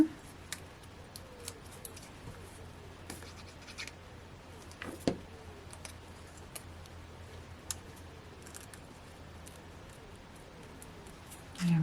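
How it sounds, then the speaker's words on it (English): Scissors cut through a piece of card during papercraft at a tabletop, giving scattered sharp snips and light scratchy ticks over a quiet room hum, with a faint knock near the end. "Let's cut that in half."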